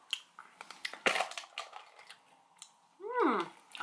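A chocolate Easter egg and its foil wrapping are torn open, with close crinkling and a sharp crunch of breaking chocolate, then a brief squeaky rustle.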